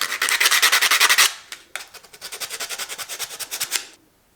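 Fine sandpaper smoothing wood in two quick bursts of close, rhythmic rasping strokes, about a dozen strokes each, separated by a brief pause and alone.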